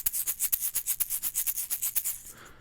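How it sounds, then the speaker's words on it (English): An egg shaker is shaken in a steady, even rhythm of roughly ten quick strokes a second, each a crisp, bright rattle of beads. It sounds close and alone, then stops. "So I have 3 egg shakers here. One sounds like this."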